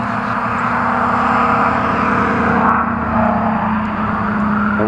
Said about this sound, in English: we got some loud trucks going by